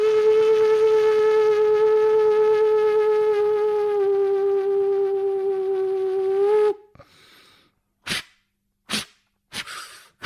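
A human voice imitates an old coal-fired steam train, holding a long, loud whistle for several seconds and then breaking into short, separate puffing chuffs.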